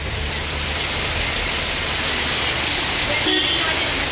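Heavy summer rain in Kancheepuram, Tamil Nadu, falls as a dense, steady hiss that fills the whole clip, loud and unbroken.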